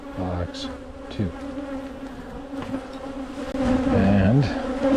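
Honey bees buzz close and loud around a hive during an inspection, several drones weaving and rising in pitch as guard bees fly past, with no talking.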